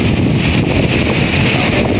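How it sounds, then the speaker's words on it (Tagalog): Strong wind roars steadily across the microphone, a loud continuous buffeting rush with no voices. "Sobrang lakas ng hangin."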